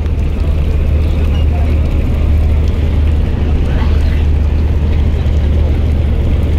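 The passenger launch MV Jubaraj 7 pulls away from Charmonai after the final prayer among many other launches, a loud, steady, deep engine rumble with voices mixed into the background.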